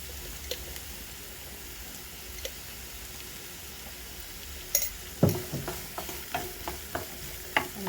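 Vegetable fried rice being stirred in a pan, soft background sizzle punctuated by irregular spatula scrapes and clinks that grow busier toward the end.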